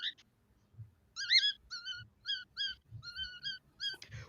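An old dog named Foxy whimpering, a series of high, wavering whines in short bursts at close range, with soft thumps and low background noise between them.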